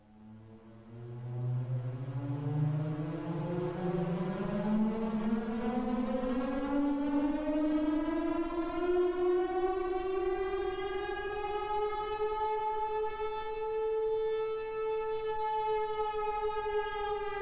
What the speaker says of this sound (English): An air raid siren.